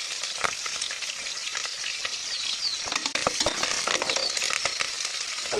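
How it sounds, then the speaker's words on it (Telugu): Chilies and onions frying in hot oil, a steady close crackling sizzle with scattered pops and light stirring scrapes throughout. "మిర్చి కాలుతుంది."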